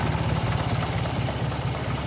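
A 1953 Ford Golden Jubilee tractor engine idles close by, a steady low chugging rumble with an even rhythm and no voices.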